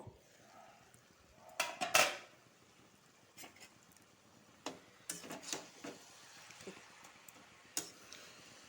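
A metal pan lid clinks while being lifted and set back over a pan of frying cabbage and potatoes, giving a few sharp, close taps and rattles scattered among quiet kitchen background.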